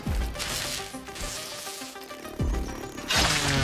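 Insects buzz inside the survival video game Grounded 2, a mosquito among them, under a dense wash of game effects and music that swells and drops over a few seconds.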